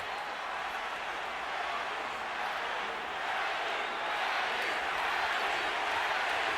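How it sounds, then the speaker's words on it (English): A boxing arena crowd at the Pacquiao–Margarito fight roars in a dense, steady wash of voices that swells slightly, with no distinct chant rhythm standing out. "And the crowd picks up the chant."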